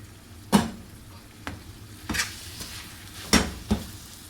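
Ground onion paste fries in a pan under a quiet sizzle, with five or six distinct scraping knocks of a spoon stirring at irregular intervals, close by.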